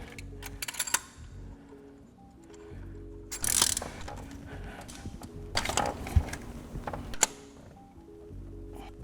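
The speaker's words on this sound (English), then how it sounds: "Now you're gonna put the spark plug back in." Ratchet clicks and metallic mechanical handling as a spark plug is threaded back into an Audi 4.0T V8 engine, with short bursts of rapid clicking and tool clatter at close range and no talk.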